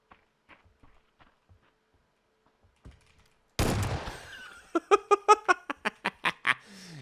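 A sudden burst of loud, sharp gunfire in PUBG, then a rapid string of about a dozen crisp shots, all after a quiet stretch of faint clicks.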